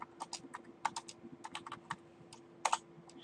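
Computer keyboard keys clatter in quick irregular bursts of typing as a command is entered into a MySQL console on a Windows machine, close and fairly quiet over a faint steady hum.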